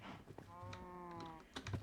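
A single cow lowing in Minecraft Bedrock, one drawn-out tonal moo lasting most of a second, set against soft keyboard typing and faint clicks, quiet overall.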